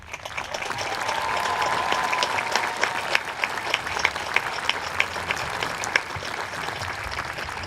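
Graduating class audience at a school graduation ceremony applauds first-generation college students, a steady, fairly distant wash of clapping with a few sharper individual claps that continues throughout.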